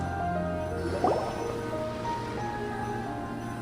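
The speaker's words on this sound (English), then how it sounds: "seems that the water level has suddenly decreased" Water drains away in Genshin Impact, a soft liquid drip and gurgle with one brief splashy burst, under a steady hum of game music.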